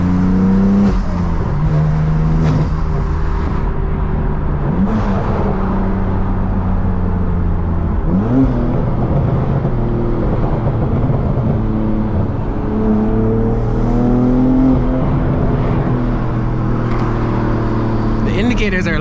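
A manual BMW M3 F80 engine drones and rises through gears with shifting revs, loud and continuous from inside the car, with occasional talk over the engine.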